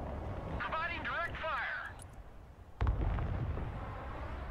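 Artillery fire and explosions in the war video game Broken Arrow: a sharp, loud blast around the midpoint with a rumbling tail, following a stretch where someone talks over a low, continuous battlefield rumble.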